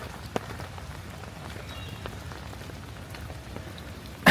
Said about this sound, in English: Today will be a nice raining in Central Park recorded video.